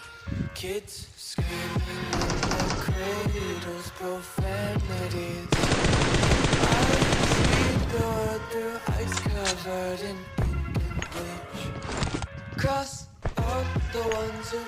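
Automatic gunfire bursts out in a battle royale video game, rapid rattling volleys separated by brief pauses, with one long sustained burst in the middle over a busy game soundscape.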